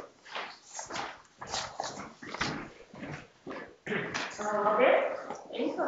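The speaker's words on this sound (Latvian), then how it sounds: "Noņem nost to suņu." At a Saldus municipal council extraordinary meeting, a dog whimpers and gives small yips and barks under steady formal speech, fairly faint against the voices.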